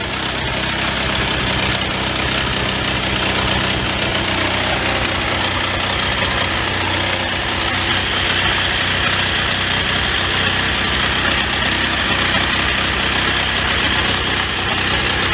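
A 1948 Willys Jeep engine, started after 35 years dormant, idles loudly and steadily up close, a continuous rough mechanical rumble with a slight knocking pulse throughout.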